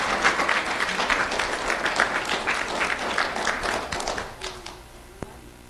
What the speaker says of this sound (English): Let's have a round of applause for Eddie Gore.